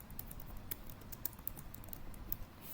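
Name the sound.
typing a prompt on a computer keyboard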